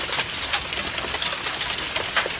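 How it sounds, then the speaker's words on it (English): Heavy rain mixed with big hail pours down steadily during a thunderstorm, a dense close hiss with scattered sharper ice impacts throughout, heard alone without talk. "I'm not going out there because the hail is pretty big."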